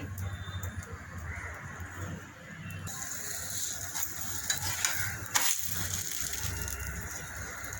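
Chapati brushed with oil cooking and puffing on a hot griddle, a steady low sizzle and frying hiss running throughout with a few soft scraping touches, no voices.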